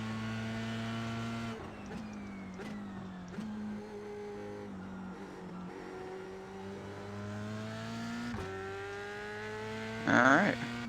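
An F3 race car engine in the iRacing sim at the Nurburgring holds a steady, fairly faint whine, with brief gear-change blips and rising pitch, then a short burst of tire squeal near the end.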